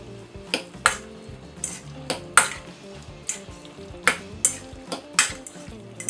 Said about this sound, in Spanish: Y removemos.